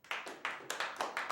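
A small audience at a talk gives a handful of quick, faint hand claps, roughly half a dozen sharp slaps in uneven succession over a moment.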